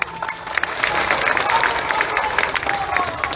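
Crowd applauding at an outdoor political rally in Pooja Park, Sidhi, for Kedarnath Shukla: steady, dense clapping that holds for several seconds, with a faint voice underneath.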